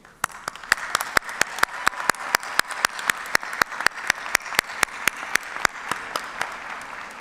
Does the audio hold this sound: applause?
yes